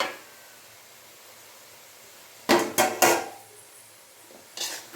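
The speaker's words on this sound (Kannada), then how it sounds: "ಈಗ ಪ್ಲೇಟ್ ಓಪನ್ ಮಾಡ್ತಿದ್ದೀನಿ" A few sharp metallic clanks of a lid plate being lifted from a pan of cooking amaranth leaves, clustered together, then one more clatter after a short pause.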